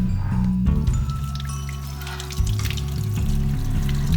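Tap water runs steadily over choy sum stems held under the faucet, with a continuous pouring rush and low sink rumble throughout, interrupted briefly by a splash shift midway.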